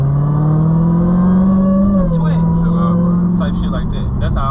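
A Dodge Hellcat's engine holds a loud, steady drone that climbs in pitch as the driver gets on the throttle, dips briefly, then keeps pulling hard, with people talking over it inside the car.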